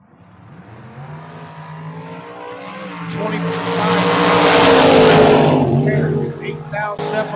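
Chevrolet Camaro and Corvette drag racing at a drag strip, engines building from a rumble to a loud, roaring pass that peaks midway and then fades slightly, with a commentator talking over the noise.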